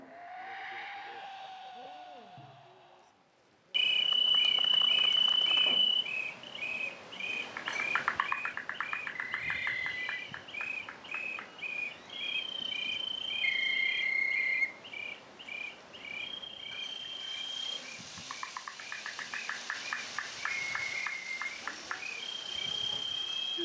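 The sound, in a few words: bird calls imitated on handmade instruments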